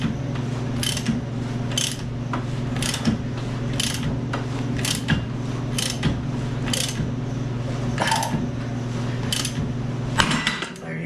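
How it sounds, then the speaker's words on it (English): A ratchet wrench works on a snowmobile clutch bolt, giving a steady sequence of regular, close clicking strokes about once a second over a constant low mechanical hum, with no talking. "I don't know if this ratchet is gonna be long enough for me to get enough torque on here"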